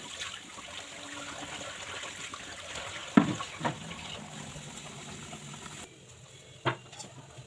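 Leafy greens are rinsed by hand in water, with a soft, steady trickle and splashing plus a few louder sloshes, faint and close, with no talk.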